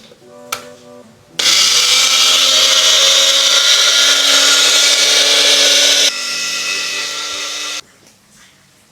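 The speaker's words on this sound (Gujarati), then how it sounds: "મિક્સર જારની અંદર આપણે પીસીશું." A mixer grinder pulverizes dried curry leaves into powder, a loud steady whirring roar that runs for several seconds, drops to a slightly lower pitch, then cuts out, with no talking over it.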